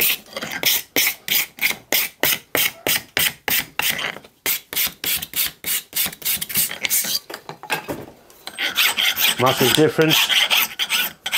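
A metal hand file rasps across brass in a workshop, a rapid run of rhythmic back-and-forth strokes, close and loud, pausing briefly before a denser burst of filing, with a short spoken remark.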